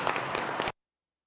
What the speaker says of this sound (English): I think everybody deserves a big round of applause